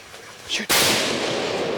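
A single sharp rifle shot cracks out on an African safari hunt, then a long rolling echo and rumble trail off across open country.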